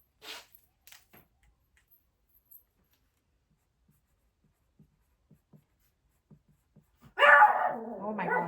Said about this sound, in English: Every time he barks like that, he freaks me out.